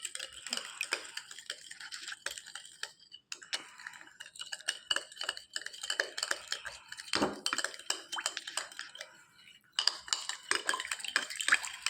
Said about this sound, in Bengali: এটা ভালো করে মিক্স করতে হবে।